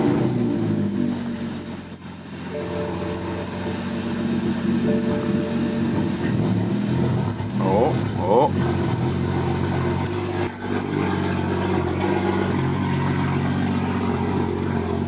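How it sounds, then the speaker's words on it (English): A tuned car engine running a Stage 2 tune on 93 octane fires up with a roar, then settles into a loud rumbling idle with slight fluttering. A person briefly exclaims once. "here's our first startup with Stage 2 93 octane and GTS startup roar"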